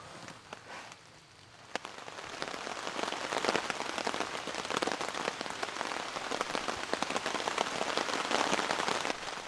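Heavy rain pours onto a camping tarp during a storm, a dense, steady patter of drops close by that builds slightly and holds for the whole stretch with no voices.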